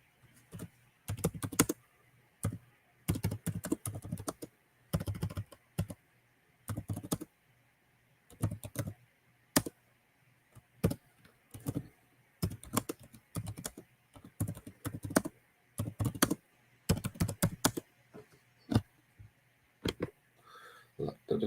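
Quick bursts of computer keyboard typing, sharp clustered clicks in irregular runs separated by short pauses, close and fairly loud throughout.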